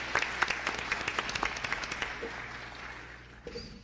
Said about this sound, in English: if we could give a round of applause one more time as he organizes